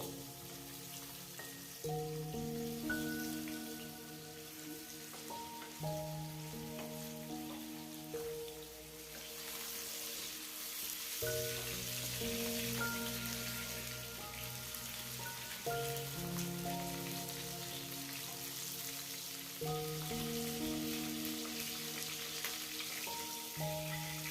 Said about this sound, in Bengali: বাকি এঁচোড়গুলোকেও আমরা একইভাবে ভেজে নেব।